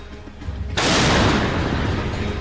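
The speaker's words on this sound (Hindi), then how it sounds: "रूस के ठिकानों से आग के गोले बरसाती ये है जर्मनी की सबसे भरोसेमंद आर्टिलरी" German artillery firing in the Ukraine–Russia war: after a quieter start, a single loud blast erupts suddenly and rolls on as a sustained heavy roar, close and dominant.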